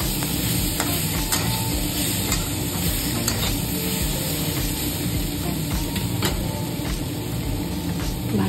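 Potatoes and radish sautéing in a pan for a simple curry, a steady loud sizzle with repeated scraping and clattering strokes of a stirring spoon, close and continuous.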